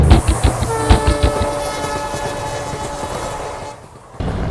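A Shatabdi Express passenger train at Guwahati station sounds loud and close, with a sustained horn tone over rhythmic clanking of wheels and carriages that fades briefly before the rumble returns.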